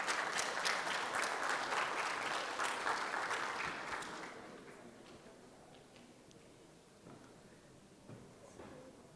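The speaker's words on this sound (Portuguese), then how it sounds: "Palmas para as duas." An audience claps for two women at a Brazilian road conservation conference; the applause is fairly loud at first, then fades after about four seconds, leaving a quiet room with a few stray claps and faint murmurs.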